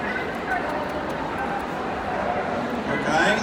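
At a Crufts display, a working trials dog gives sharp yips and whimpering barks in a busy arena over crowd noise, the calls brief and somewhat distant under general hall ambience.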